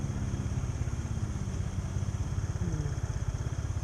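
A Honda Click 110 small motorcycle runs steadily while being ridden through a quiet town at night, its low engine putter pulsing evenly and continuously throughout, close and fairly loud, with no talking.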